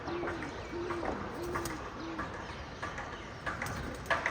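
Soft pigeon coos repeat in a short series, followed by faint rustling and light knocks in a quiet space.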